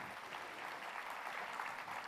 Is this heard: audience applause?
yes